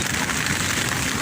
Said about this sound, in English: So the tent's being buffeted. The winds blow from the south.